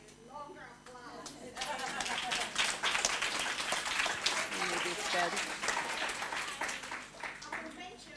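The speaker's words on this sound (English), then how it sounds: "you deserve a longer applause" Applause breaks out at a final plenary discussion. The room's clapping is dense and steady, rising after a brief bit of talk at the start and continuing under occasional voices.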